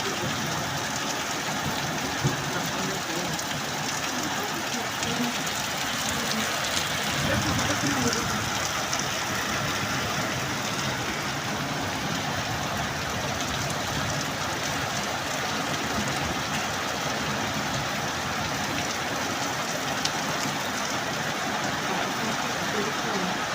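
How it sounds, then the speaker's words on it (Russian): Rain falling outdoors on a May day, a steady, dense hiss of drops that runs unbroken and evenly loud throughout. "придется подождать, пока закончится этот замечательный дождик"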